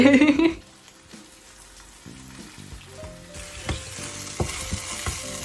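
Bacon and chorizo frying in a pan, deglazed with vinegar: a loud hiss bursts at the start and then eases into a steady sizzle with light stirring, and a voice speaks briefly.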